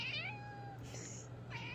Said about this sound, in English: It's Cooter the talking kitty.